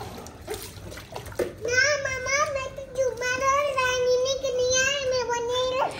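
A small child splashing about in a water bucket at bath time, steady close sloshing under a child's long, drawn-out vocalising.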